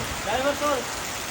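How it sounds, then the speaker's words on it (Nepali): Steady heavy rain driven by wind hisses loudly and evenly, with a voice briefly speaking over the downpour. "हावा हुरीसितको पानी।"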